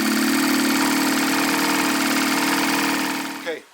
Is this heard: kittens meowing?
no